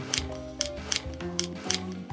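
Peeled carrot being finely chopped with a knife, a series of about six crisp, close clicks on a board in an uneven rhythm over steady background music.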